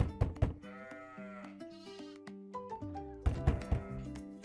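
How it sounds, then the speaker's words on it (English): Sheep bleating on a farm, several wavering bleats near and fairly loud over a lively backdrop with thumps and other animal sounds, no talking. "It's a sheep."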